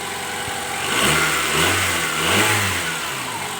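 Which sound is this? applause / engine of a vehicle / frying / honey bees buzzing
engine of a vehicle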